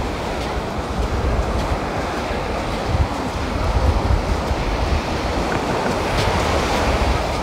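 Ocean waves wash steadily onto a busy beach, a continuous loud roar of surf mixed with wind buffeting the microphone, with no voices.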